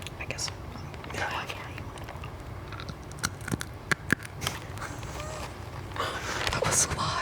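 Crunchy coconut cashew snack is bitten and chewed close to the mic during an ASMR talk show, with a few sharp crisp crunches scattered among soft chewing while people whisper and murmur throughout.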